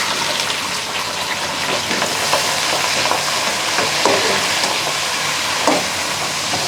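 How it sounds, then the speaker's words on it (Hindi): Onions frying in a kadhai with whole spices give a continuous loud sizzle and crackle, with occasional stirring clinks over the steady hiss. "अब हम इसमें प्याज डालते हैं।"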